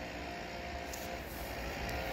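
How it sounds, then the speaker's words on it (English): Steady broadband construction noise from a nearby building site fills the background, a continuous outdoor rumble and clatter with no clear speech, loud and even throughout. "I apologize for the noise, because I'm standing not too far away from a building site"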